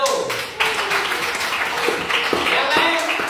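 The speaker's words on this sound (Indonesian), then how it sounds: "Ayo, tepuk tangan untuk kelompok 1." Students in a classroom clap for a group, a burst of scattered, uneven hand claps mixed with voices talking.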